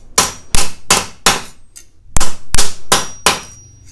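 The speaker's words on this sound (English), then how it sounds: "this is the edge that got hammered with the cross peen" A cross peen hammer strikes jewelry metal about eight times in close succession. Each blow is a sharp, ringing clang at an uneven rhythm, loud and near, with nothing else heard.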